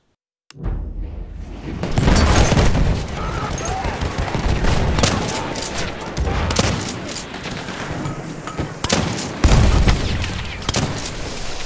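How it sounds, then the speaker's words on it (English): Heavy gunfire and grenade blasts in a Battlefield 1 match, a loud, continuous clatter of rifle and machine-gun shots with booming bursts near the start and again late, while a player shouts over the chaos. "Killed by a grenade!"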